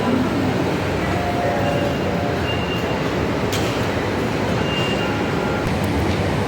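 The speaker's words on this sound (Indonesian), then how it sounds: "MRT Jakarta dari arah Lebak Bulus sudah datang di stasiun Blok M BCA." An MRT Jakarta metro train from Lebak Bulus pulls into Blok M BCA station with a steady, loud rumble and hum of rolling stock, broken by faint squeals and clicks.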